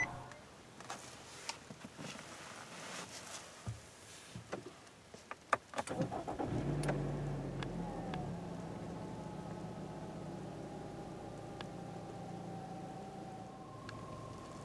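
A 2018 Nissan Rogue starts with its push button: a few clicks and taps, then the engine catches with a soft rumble and settles into a quiet, steady idle inside the cabin.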